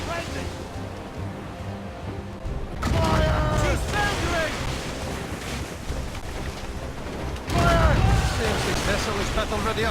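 Ship cannon fire in Assassin's Creed Rogue, with heavy booming bursts around the third and eighth seconds rolling over wind, ocean waves and creaking sailing ship ambience, while shouting voices call out amid the naval battle.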